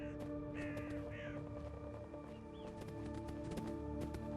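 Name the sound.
bird calls in the video game Fallout London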